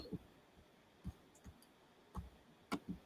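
A handful of sparse, sharp clicks, likely from a computer mouse, land at uneven intervals against a quiet background with no speech.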